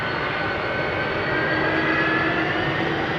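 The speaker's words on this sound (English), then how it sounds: "I'm in the BA 319 just taxiing towards the runway, Douglas saying." British Airways A319 airliner taxiing towards the runway at London Heathrow, a steady, even jet engine roar and whine heard at a distance, no talking.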